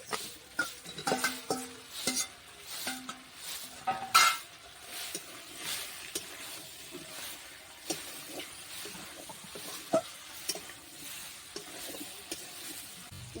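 Fried potatoes and jackfruit tossed into a hot oily pan for a prawn and jackfruit curry, giving a soft sizzle under repeated scraping and clinking stirs from a utensil against the pan, close and fairly quiet.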